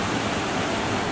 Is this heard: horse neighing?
no